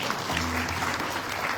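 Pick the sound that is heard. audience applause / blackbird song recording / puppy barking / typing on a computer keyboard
audience applause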